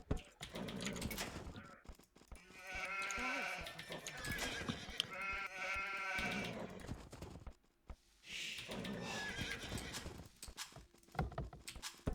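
Sheep bleat repeatedly in a real-time strategy game, layered with the rhythmic clip-clop of hooves and other game sounds, fairly loud and continuous with brief gaps.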